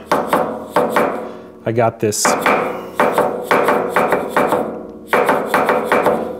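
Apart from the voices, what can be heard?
dead blow hammer tapping a part down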